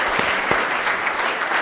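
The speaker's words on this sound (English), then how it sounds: "Give him another round of applause" Audience applause from a seated crowd at a speaking event, a steady dense wash of clapping with a couple of sharper claps standing out, close and loud throughout.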